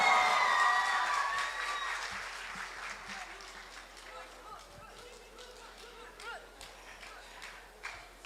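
Applause from a live audience at the Myanmar Star 2024 grand final greets a singer, loud at first, then thinning into scattered clapping as a voice carries over it.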